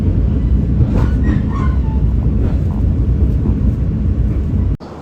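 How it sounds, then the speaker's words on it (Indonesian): The Kaligung passenger train at Tegal station, a loud continuous rumble of rolling carriages with faint squeals and clanks on top, close by and unbroken until an abrupt cut near the end. "Di sini di stasiun Tegal kita bertemu dengan kereta api Kaligung dengan keberangkatan dari stasiun Tegal tujuan Semarang Poncol"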